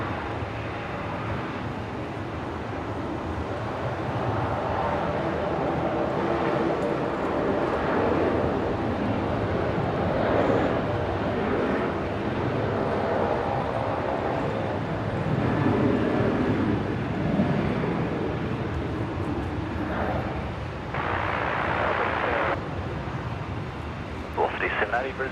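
A Texel freighter aircraft takes off from Brisbane, a continuous broad jet roar rolling and swelling at a distance for the whole stretch, with brief bursts of hiss and handling noise near the microphone.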